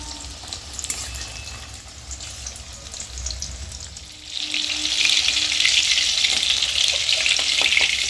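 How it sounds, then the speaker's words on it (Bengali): Chicken pakoras fry in hot oil, a soft bubbling at first that swells into a loud, steady hiss of frying halfway through, with faint clinks of a utensil. "এবার আমি বাকিগুলোকে এক এক করে ভেজে নেব।"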